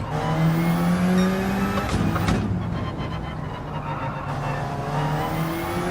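A GT3 race car in Gran Turismo 7 on track, its engine note loud and close as it revs high, drops sharply through a gear change or braking, then climbs again with a rising whine, no talk.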